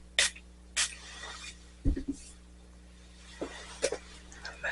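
Two quick, hissing squirts from a spray bottle, close by, followed by faint handling noises and light knocks.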